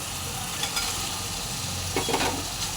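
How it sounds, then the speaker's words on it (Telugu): Raw prawns for a bitter gourd curry fry in a pan, giving a loud, continuous sizzle and crackle with a few brief stirring scrapes, no voices. "పచ్చిరొయ్యలు కూడా వేసుకున్నాం వేగుతున్నాయి చూడండి"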